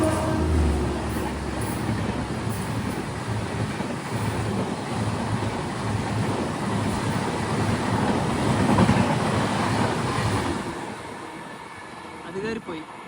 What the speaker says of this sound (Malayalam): ഈ ട്രാക്ക് വഴിയാണ് ഗതിമാൻ എക്സ്പ്രസ് പോവുക